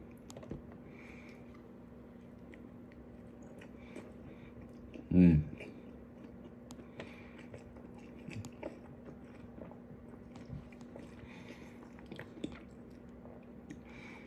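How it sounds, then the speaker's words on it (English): A single close, crunchy bite into a steak burrito, followed by faint chewing under a steady low hum. "Here's another delicious bite of the burrito Tapatio."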